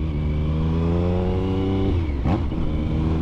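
A Triumph 1050cc three-cylinder motorcycle revs hard and close, its engine note climbing steadily before a quick drop and a fresh surge, loud and continuous with no talk over it.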